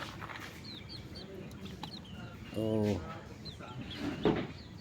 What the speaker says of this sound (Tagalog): May nakakulong pang manok dito,